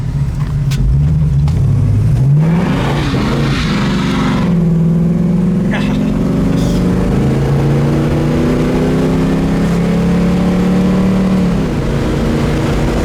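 A 1965 Ford Mustang Fastback with drum brakes revs and pulls away, the engine note climbing and shifting through gears, loud and close throughout with a faint voice in the background.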